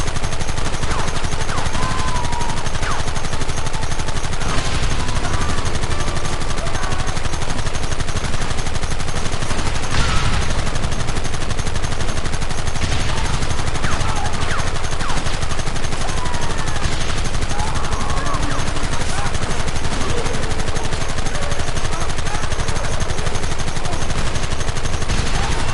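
Rapid gunfire rattles without pause through a Red Dead Redemption shootout, dense bursts of rifle and machine-gun shots layered over one another at steady loud volume for the whole stretch.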